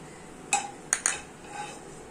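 A metal spoon scoops fried cashew nuts out of a pan while cooking paalada payasam, giving three sharp metallic clinks close by, the last two in quick succession, followed by a softer scrape.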